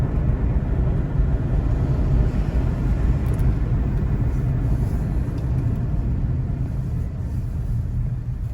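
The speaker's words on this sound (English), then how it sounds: "Another big bus here." A big bus on a coastal road in Jamaica passes by close, its engine making a loud, steady low rumble that fills the whole stretch with no voices on top.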